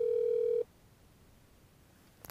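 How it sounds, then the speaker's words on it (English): A steady tone sounds on an OpenStage 40 desk phone while a number is dialed, then cuts off into near silence, with a faint click or two at the very end. "dial your number and press OK"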